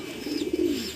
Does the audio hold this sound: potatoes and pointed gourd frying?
no